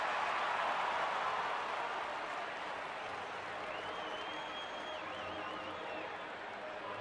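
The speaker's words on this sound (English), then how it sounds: "you can hear the buzz in the crowd" A steady, dense crowd roar fills a baseball stadium during a Milwaukee at Chicago game, a continuous buzz of many voices with no single voice standing out.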